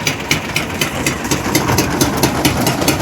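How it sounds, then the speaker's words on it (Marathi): A small rowing-boat engine runs on the water at close range, a loud rough low rumble with rhythmic pulsing and rattly beats throughout. "आमची होडी लगेच आता चालू होते"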